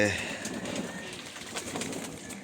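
Pigeons coo softly inside a crowded flying loft during bathing time, a low, muffled murmur with faint rustling throughout.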